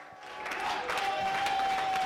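Applause from a comedy show audience swells in after a brief quiet start, a dense crowd clapping that grows louder and holds steady, with a faint sustained tone running beneath it.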